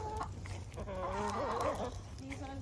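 Backyard chickens at an urban homestead clucking close by, a run of soft overlapping clucks and murmurs lasting a couple of seconds with no talk.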